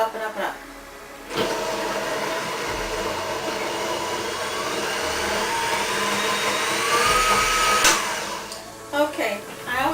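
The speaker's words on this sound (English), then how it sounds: "I'm just going to go on the lowest setting, and then we're eventually going to dial up the speed." A blender purees lentil hummus, starting after a short pause and running steadily loud for most of the stretch, its whine rising as the speed is dialed up before it cuts off and sputters near the end.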